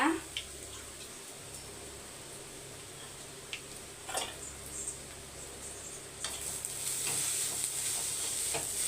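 Grated coconut being stirred into a spiced mix in a pan over low heat for a Thai Pongal dish, with a soft steady sizzle and a few scraping strokes of a spoon, while a voice talks over it.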